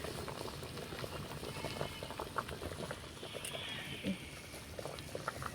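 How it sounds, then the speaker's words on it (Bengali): Water with orange peel boils in a pot, a steady close bubbling and popping, quiet and continuous, with no talk over it. "জলটা কিন্তু টকবক করে ফুটে নিতে হবে"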